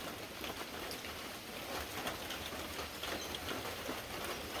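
Steady rain falls in tropical weather, a constant dense patter on surfaces with a continuous hiss and faint scattered drops, moderately quiet and uninterrupted throughout.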